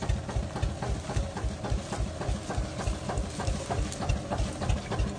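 A tractor engine runs in low gear while pulling a homemade implement for uprooting crop stalks in a field, giving a steady, close, rhythmic chugging throughout with no talk.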